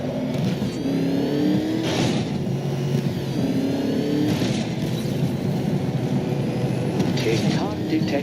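Batmobile engine revving in the Batman Arkham Knight video game, a loud continuous roar with rising and falling pitch sweeps, mixed with game effects and a voice talking over it.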